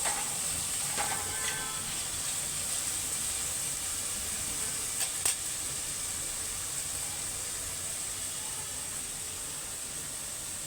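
Chopped onion and capsicum frying in a pan, giving a steady, even sizzle and hiss with a couple of brief stirring clinks early on, close and continuous throughout.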